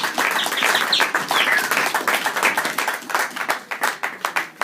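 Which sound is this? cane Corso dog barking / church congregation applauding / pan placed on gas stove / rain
church congregation applauding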